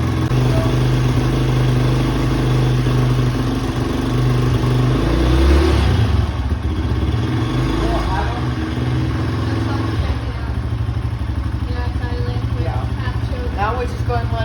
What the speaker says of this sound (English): Now we just go ahead and let it idle for a little bit.